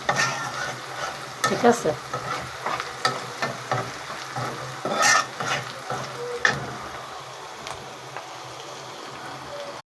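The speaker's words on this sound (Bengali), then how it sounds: "এটাকে আমি খালি ভাজি করব।" Malabar spinach (pui shak) dry-fries with a little turmeric in a kadai under a soft sizzle, while a spatula scrapes and tosses it in irregular bursts. A voice speaks briefly.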